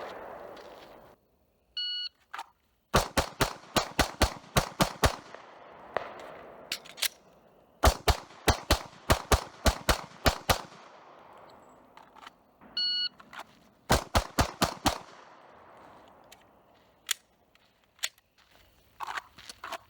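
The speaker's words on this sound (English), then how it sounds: "Let's try to run a few more rounds." Pistol shots from a Smith & Wesson M&P 2.0 in .40 S&W at a range, fired in quick rapid strings of sharp loud cracks with short pauses between groups, no talking.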